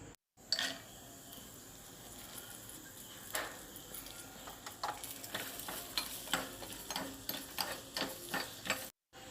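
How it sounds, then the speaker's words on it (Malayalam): A teaspoon of butter sizzles and crackles in a pan as nuts fry, with a steady hiss, punctuated by light clinks and scraping as they are stirred. "ഒരു ടീസ്പൂൺ ബട്ടർ ചൂടാക്കിയിട്ടുണ്ട് ഇനി അതിലേക്ക് നടച്ചിട്ട് ഒന്ന് വറുത്തെടുക്കാം"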